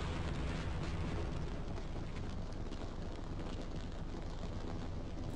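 Rocket explosions in the video game Half-Life 1, a dense continuous roar of blasts and rumbling debris that fills the whole stretch loudly, with no talking.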